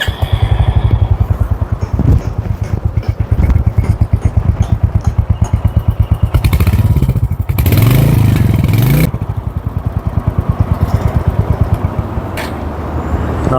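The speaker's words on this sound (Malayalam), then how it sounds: "നമുക്ക് എൻജിൻ ജസ്റ്റ് ഒന്ന് സ്റ്റാർട്ട് ചെയ്തതിൻ്റെ സൗണ്ട് എങ്ങനെ നോക്കാം." A Royal Enfield Hunter 350 motorcycle engine runs close by with a steady, rapid thumping idle, briefly rising in a rev before settling back to its even beat.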